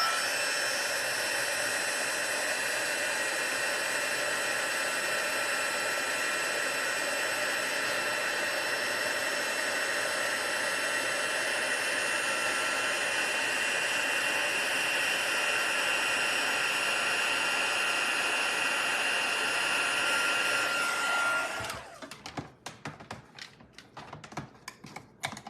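Heat tool blowing hot air steadily over a paper craft project, a loud constant whir with a high tonal whine lasting over twenty seconds, then cutting off abruptly into quiet clicks and rustling, without talk.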